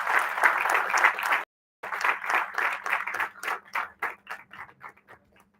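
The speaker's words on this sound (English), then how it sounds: "A big round of applause for our panelists." Audience applause for panelists at an Institution of Engineers (India) entrepreneurship event in Nashik, a dense burst of clapping that cuts out briefly, resumes, then thins into scattered claps and fades.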